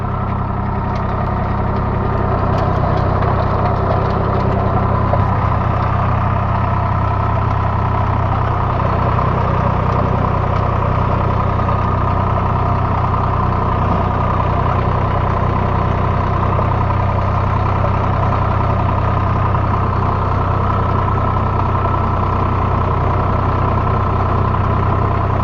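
A Swaraj 744 FE tractor fitted with a GS 36 blade works a field, its diesel engine running steadily with a deep, constant drone that stays loud and close throughout.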